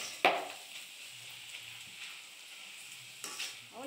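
Poha (flattened rice) fries in hot oil with a faint, steady sizzle and hiss, broken by a sharp metallic clink near the start and a brief stirring rustle near the end.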